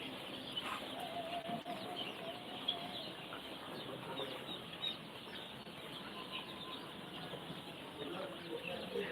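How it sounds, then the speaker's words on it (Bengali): Tiger-breed chicks on a poultry farm chirp and peep in a steady dense chorus, with faint clucking and general farm bustle around them throughout. "এটি আপনাদেরকে দেখালাম টাইগার মুরগির বাচ্চা"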